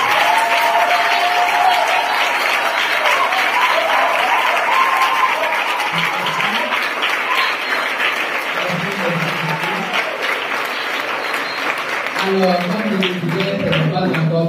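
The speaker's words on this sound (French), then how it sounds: "on va acclamer maintenant pour Dieu" A crowd at an adolescents' religious gathering applauds and cheers for God, sustained loud clapping and shouting throughout, with voices calling out over the applause.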